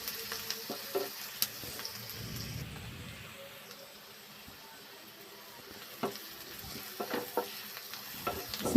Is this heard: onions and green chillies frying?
yes